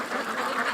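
Ducks raised on a lakeside property quack loudly and close by in a quick, nasal burst of calls that fills the short moment, with no voices.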